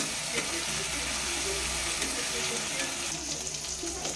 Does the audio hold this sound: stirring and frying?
yes